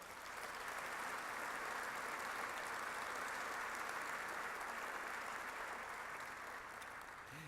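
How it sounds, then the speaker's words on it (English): Sustained applause from a large audience at a military medicine awards ceremony, a dense, even wash of clapping that holds steady throughout and sounds somewhat distant. "we should give him a round of applause"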